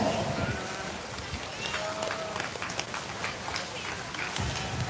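Spectators at a county fair 4-H and FFA beef cattle show applaud in a livestock arena, a broad, roomy wash of clapping heard from a distance, with voices murmuring underneath.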